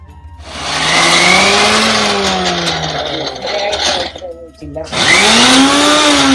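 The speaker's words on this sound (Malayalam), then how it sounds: "ഞാൻ പച്ചമുളക്, ഇഞ്ചിയും വെളുത്തുള്ളിയും ചതച്ചിട്ട് വരട്ടെ" A kitchen mixer crushes green chilli, ginger and garlic for Thalassery biriyani with a loud, close motor whir whose pitch rises and falls. It dips briefly, then starts up again.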